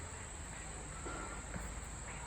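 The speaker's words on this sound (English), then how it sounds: "all the little bugs and bees that are buzzing around me" Insects buzz and chirp outdoors on a calm day in a steady, faint high-pitched drone with no breaks, heard alone with no talk.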